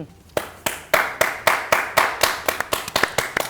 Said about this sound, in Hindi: मेरी वो आउट ऑफ सिंक है ताली